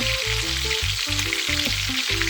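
Turkey wings fry in hot oil in a pot for Jamaican stewed turkey wings, giving a dense, steady sizzle that is loud and close, with faint music underneath and no talking.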